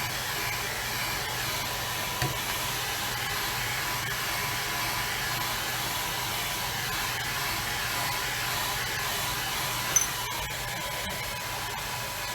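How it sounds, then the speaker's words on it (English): A hair dryer blows steadily on a watercolor painting of a bridge and church, a constant close airy whoosh with a couple of faint clicks and no speech. "While I'm drying, I can't kind of sit still when I'm drying"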